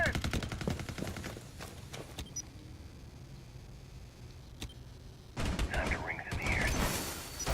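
Rainbow Six Siege gunfire crackles in rapid automatic bursts at the start, goes quiet with a single sharp shot midway, then returns as clustered shots and mechanical clatter from the competitive match.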